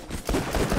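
Rapid automatic gunfire from a big gun in the shooter game Borderlands 2, a dense continuous burst of shots that starts abruptly partway through and runs loud to the end, with no talking.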